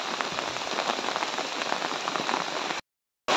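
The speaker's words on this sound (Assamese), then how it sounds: "কেৱল মাত্ৰ বৰষুণেই বৰষুণ।" Heavy monsoon rain pours steadily onto surfaces in a dense, loud hiss, broken by a brief silent gap before resuming.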